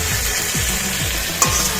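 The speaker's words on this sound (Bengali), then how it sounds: "কড়াই তেল দিয়ে পেঁয়াজ টমেটো টমেটো আর লবণ দিয়ে ভেজে নিচ্ছে" Onions, tomatoes and salt fry in hot oil in a wok, a steady close sizzle, with a few soft scraping stirs and one sharp clink of a utensil partway through.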